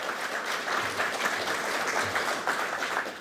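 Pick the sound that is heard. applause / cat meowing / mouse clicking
applause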